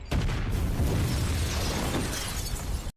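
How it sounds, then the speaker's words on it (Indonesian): A loud, sustained blast from a house being blown up in a film, with a sudden onset, followed by nearly three seconds of dense roaring and crackling debris before cutting off abruptly. "Dan hal tersebut memicu kemarahan bos mafia itu dengan meledakkan rumah John Wick"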